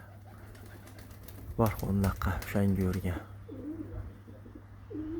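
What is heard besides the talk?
pigeons cooing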